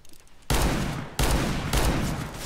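Several loud R8 Revolver gunshots in a video game ring out in close succession, each a sharp broadband blast with a trailing echo, the first after a brief quiet lead-in.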